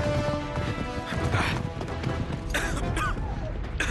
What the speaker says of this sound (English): That's impressive for the horses to follow you